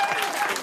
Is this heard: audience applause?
yes